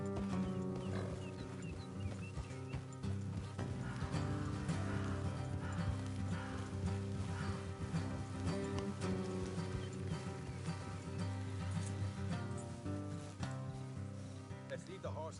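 Horse hooves clip-clop at a steady trot beneath a constant layer of music in the video game Red Dead Redemption II, with an occasional snort over the rhythm.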